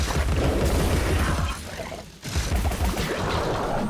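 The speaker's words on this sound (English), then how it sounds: "I've got the demonic one now, anyway, the demonic pepper grind." Rapid continuous mechanical gunfire from the Pepper Grinder weapon in Alice: Madness Returns, a loud dense rattle that breaks off briefly midway and then resumes at full intensity, with no talking.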